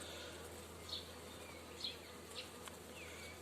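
Honey bees buzz steadily around an open hive during an inspection of colony strength before the main honey flow, a dense close hum with a few brief louder passes of individual bees.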